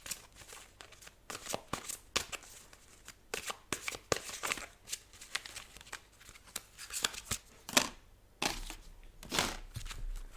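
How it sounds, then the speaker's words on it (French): Playing cards shuffled by hand for a tarot-style reading, a run of crisp riffling bursts and papery flutters with short pauses between, close and fairly quiet with no talking. "Je vais retirer d'autres cartes."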